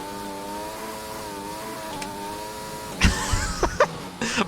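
An F1 2020 race car engine in a video game holds a steady high whine for a few seconds, then snarls and revs sharply in several quick throttle blips, with no talk over it.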